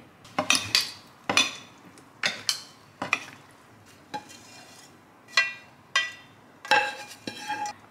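Food, including halloumi, mixed in a bowl with a utensil: repeated scraping, clinking strokes in irregular bursts, close and fairly loud, with no talking.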